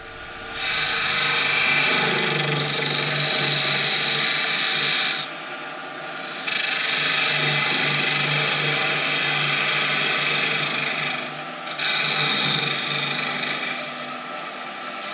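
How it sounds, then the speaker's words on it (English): Wood lathe tool parting off a small banksia bud vase, a close, loud rasping scrape that runs in long continuous passes with two short breaks, no talking. "All I've got to do is part it off now and make an hole in the end."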